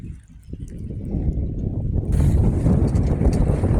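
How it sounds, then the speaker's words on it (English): Wind gusts across the microphone on a sailboat in the Cook Strait, building into a loud, steady rush with water sounds under it. There is no speech. "Wind's picking up."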